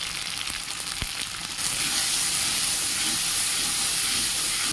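Black cumin seeds with turmeric, cumin and coriander powders frying in a hot pan: a steady, loud sizzle that swells abruptly partway through as the spices hit the oil, continuing as a dense hiss with no talk.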